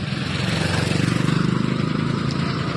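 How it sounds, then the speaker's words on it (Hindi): A container truck's diesel engine idles while parked, a loud, steady throb with an even pulsing rhythm close by, and no talking over it. "गाड़ी स्टार्ट ही खड़ी है अपनी।"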